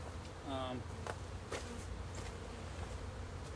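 Honeybees from a package being installed into a hive buzz steadily nearby in the open, a constant insect drone with a louder passing buzz and faint wind, and a voice briefly audible.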